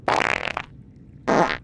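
Fart sound effects played from a soundboard: two short, loud, close blasts, the first a buzzy sputtering one and the second a brief airy burst after a pause, alone with no talking.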